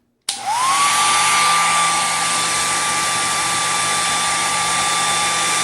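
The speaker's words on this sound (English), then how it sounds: "Turn the hair dryer on." A hair dryer clicks on and rises quickly to a loud, steady whooshing roar with a high whine, then runs on evenly with no talk.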